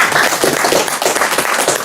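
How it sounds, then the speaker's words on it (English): Audience clapping at a devotional gathering, a dense steady patter of many hands filling the whole stretch at close, even loudness, with no talk over it. "Let's give a clap."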